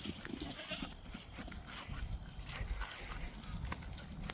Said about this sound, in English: You wild goats.